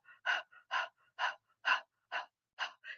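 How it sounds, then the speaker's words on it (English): Rhythmic panting breaths during a tantric breathing exercise, seven sharp, evenly spaced gasps about half a second apart, close and fairly loud with brief pauses between them. "So it's just panting."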